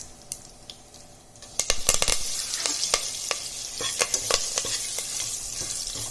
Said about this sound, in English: we'll add hing, around half a teaspoon of hing, then mustard seeds, then curry leaves,